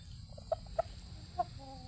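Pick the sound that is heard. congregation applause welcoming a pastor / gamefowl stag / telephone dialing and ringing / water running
gamefowl stag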